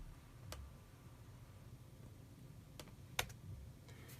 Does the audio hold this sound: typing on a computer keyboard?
yes